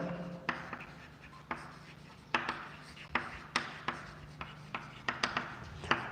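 A pen or marker writes fractions on a board, giving a series of close, crisp taps and short scratchy strokes, with pauses between them.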